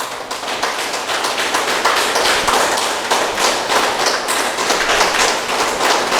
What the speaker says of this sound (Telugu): శివప్ప గారికి గట్టి క్లాప్ చేసుకుందాం.